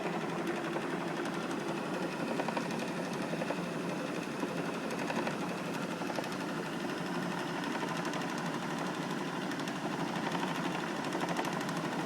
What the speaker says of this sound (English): And we're only running on 4 of these pulse motors.